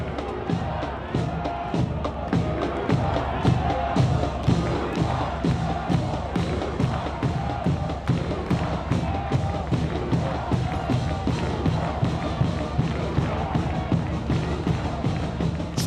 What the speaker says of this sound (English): The crowd noisy in Fort Finley.